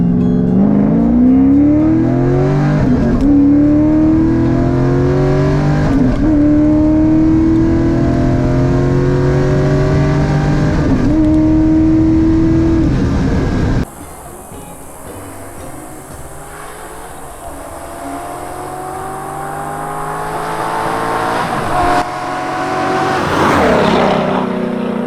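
Corvette fitted with aftermarket "Neighbor Hater" mufflers, loud close engine revving through repeated rising pulls, then a quieter idle stretch before another climbing rev near the end.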